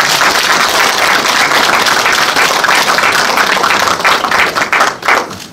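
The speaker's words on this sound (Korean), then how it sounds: "내빈 여러분들 큰 박수 부탁드립니다." Audience applause fills a foundation launch ceremony, a dense, steady wash of many hands clapping loudly and continuously before thinning out in the final moments.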